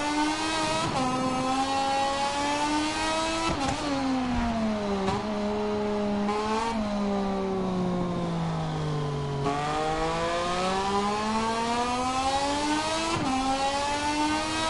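Racing engines revving continuously on a first practice run of a local grand prix, used to test tyres before the race, with harmonic pitch rising and falling through gear changes, loud and steady throughout with no talk.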